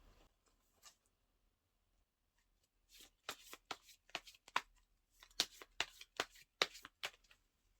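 Tarot cards are shuffled by hand in quick crisp riffling bursts, close and clear, after a few seconds of near silence with a lone soft tap.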